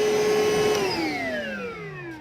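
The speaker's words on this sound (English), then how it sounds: "vacuum cleaner" A portable Milwaukee shop vacuum winds down, its motor whine sliding steadily lower in pitch over about two seconds as it spins to a stop, loud and close, with no talk.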